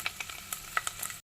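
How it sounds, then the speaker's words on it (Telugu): Ingredients for egg curry fry in a pan with a steady, soft sizzle and scattered small pops and crackles, faint and close, heard alone before it cuts out. "ఈ మాత్రం వేగితే చాలండి."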